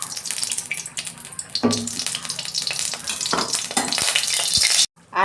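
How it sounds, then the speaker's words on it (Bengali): Potatoes and eggplant fry in hot oil in a kadai wok, making a loud, dense sizzle with stirring scrapes that stops abruptly just before the end. "আলুগুলো ভেজে নেব।"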